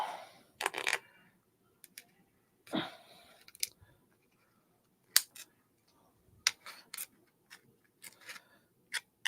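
Scissors used to open a beer bottle in a quiet room: several crisp metallic clicks and short scrapes, then a sharp pop-like snap midway.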